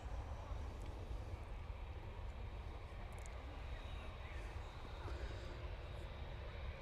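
A Juneyao Airlines airliner in Oriental Ruby livery arriving at Manchester Airport, heard as a steady, distant broadband jet roar that holds at an even level throughout without rising or fading.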